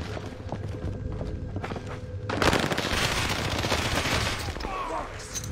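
Machine gun fire in a war video game: quiet ambience with scattered faint taps at first, then a sudden dense, continuous volley of rapid shots that stays loud to the end.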